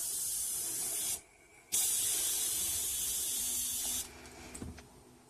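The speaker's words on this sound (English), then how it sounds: "Got my airbrush hooked up to it." An airbrush hooked to a California Air Tools 2010A oil-free compressor regulated near 25 psi releases a steady close hiss that cuts off briefly, resumes, then drops to a softer flow with small clicks.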